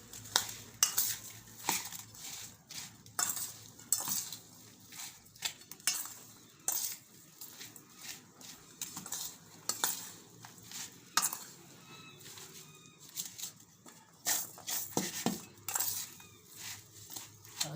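A spoon stirs red chilli raita mixed with split mustard seeds in a bowl, making quiet, irregular metallic clinks and scrapes in short bursts with brief pauses between strokes.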